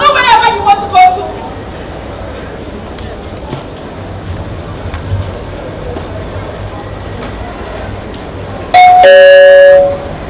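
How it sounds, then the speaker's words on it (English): A doorbell chimes loudly near the end, a bright two-tone ding-dong, after a stretch of quiet room noise with a few scattered knocks. "did you hear the bell ring?"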